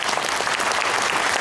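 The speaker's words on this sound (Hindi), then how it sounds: "एक बार जोरदार तालियों के साथ आगे बढ़ा जाएगा" An audience at a talk on diet and healing gives a short burst of steady, moderately loud applause, many hands clapping together with no speech on top.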